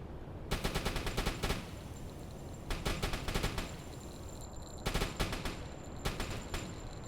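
Repeated bursts of high explosive deck-gun fire from a submarine in the naval game UBOAT, several loud rapid volleys spaced a couple of seconds apart over steady engine and sea rumble.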